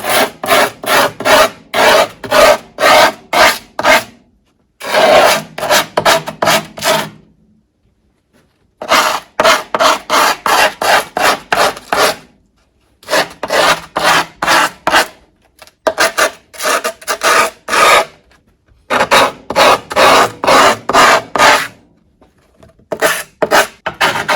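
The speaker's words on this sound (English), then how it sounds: "I'm grabbing just a Craftsman chisel and I'm going to scrape the edge of the board" A Craftsman chisel scrapes along the edge of a skateboard deck covered with grip tape, making loud, close rasping strokes in quick rhythmic bursts separated by short pauses, with no voices.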